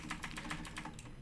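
Rapid typing on a computer keyboard, keys clacking in a quick, even run of about ten strokes, close and fairly loud with no voices.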